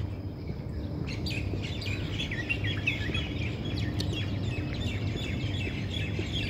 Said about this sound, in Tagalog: Ganda pakinggan ng mga huni ng ibon.